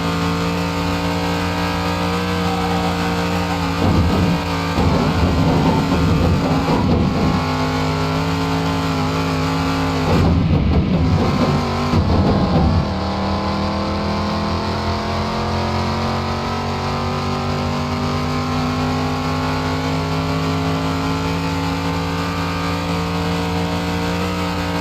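A car drives on a track, its engine a loud, steady, tonal drone throughout, broken twice by rougher, gritty bursts as the throttle changes, with no talking.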